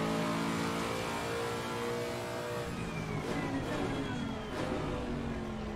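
BMW M6 race car engine in Assetto Corsa Competizione, a loud, steady mid-pitched roar that climbs through the revs with gear-change dips, heard alone with no talking.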